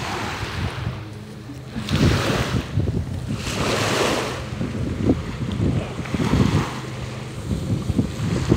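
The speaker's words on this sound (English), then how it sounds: "I really love the waves." Ocean waves surge in repeated swells along a shoreline walking trail beside a campground, with steady wind rumble buffeting the microphone.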